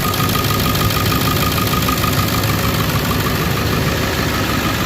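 An engine running steadily with a dense, even drone and constant vibration throughout, close by and loud, without any speech.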